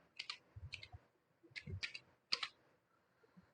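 Quiet, close keyboard typing in short bursts of clicks and taps, with brief pauses between groups of keystrokes and no voices.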